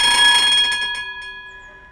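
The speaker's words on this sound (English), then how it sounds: "This was a horn of the bus." A bus horn sounds alone, a bright tonal honk with steady harmonic overtones that holds loud for about a second, then fades with short echoing tails.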